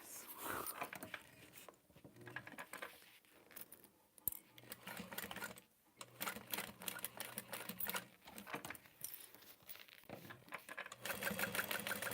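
Sewing machine stitching a bag with pink zipper tape, running in bursts of rapid mechanical clatter separated by short pauses, close and steady.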